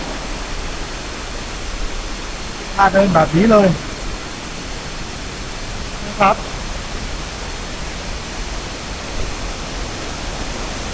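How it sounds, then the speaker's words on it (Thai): A constant rushing roar of a tiered forest waterfall at Bamboo Creek, Thong Pha Phum, fills the air, with someone speaking briefly twice over it. "มันก็มีน้ำตกแบบเป็นชั้นๆเลยนะครับสวยสวยสวยมากๆเลยนะ"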